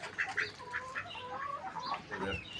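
A rooster crows outdoors at moderate distance, a rising and falling call heard alone with faint bird chirps around it.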